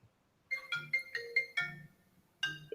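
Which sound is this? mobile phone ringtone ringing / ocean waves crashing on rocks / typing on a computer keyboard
mobile phone ringtone ringing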